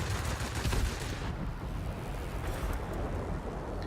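Machine guns on a World of Warplanes fighter, such as a Spitfire, fire in a dense rattling burst over steady engine roar, then the gunfire drops away and the engine drone continues.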